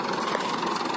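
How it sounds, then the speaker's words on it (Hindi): Tractor engine running in a field during crop harvesting in a village, a continuous close mechanical drone and rattle with no speech over it. "अभी ये ट्रैक्टर यहाँ से चलेगा और ये काटना शुरू हो गया है"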